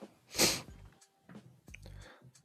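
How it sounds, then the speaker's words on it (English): Two quick sneezes in succession from a person at a desk, the first loud and breathy, the second softer, followed by faint snorts and breathing in a quiet room. "Big old double sneeze there"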